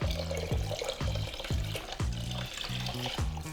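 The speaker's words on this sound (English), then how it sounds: "the next step is to add another 1 liter of cold water this time" Cold water, about a liter, is added to a candy mixture in short repeated splashing pours with liquid sloshing and stirring, quiet and close.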